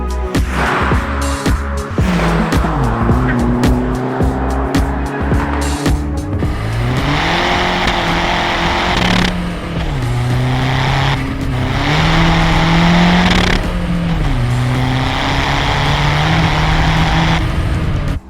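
A VW Polo PD130 diesel with a big turbo drives hard, its engine loud and close throughout, revving up and down through several gear changes with a steady roaring drone.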